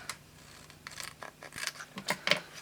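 Scissors snip through paper for card making, several short crisp cuts close to the microphone at an uneven pace, with no one talking.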